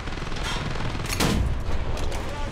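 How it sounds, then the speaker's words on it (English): A loud burst of gunfire from a War Thunder tank battle involving a BA-11 armored car, a dense crackling volley that swells near the middle and sits under continuous rumbling battle noise. "don't shoot at me"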